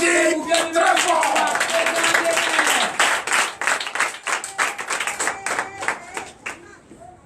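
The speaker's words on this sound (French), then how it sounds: "Donc je vous demande d'applaudir très fort." A church congregation at a Sunday service in Comè, Benin, claps loudly. A voice and a hubbub come first, then a burst of rapid, crowded applause that thins into scattered, uneven claps.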